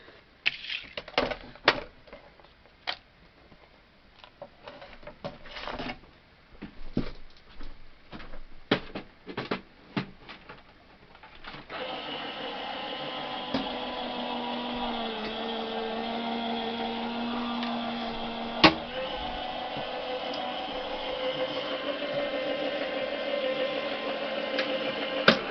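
An electronic cutting machine cutting a circle from card, first irregular clicks and clunks, then a steady loud whirring motor drone with a sharp click partway through, close and without speech.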